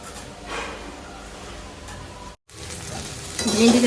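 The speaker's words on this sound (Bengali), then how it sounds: "একটুখানি পেঁয়াজ দিলাম" Onion fries in a pan with a steady sizzle. The sizzle breaks off briefly, then grows louder and more crackly toward the end.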